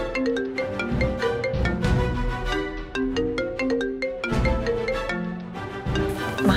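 A mobile phone's melodic ringtone plays a bright, repeating electronic tune, loud and steady without any voices over it.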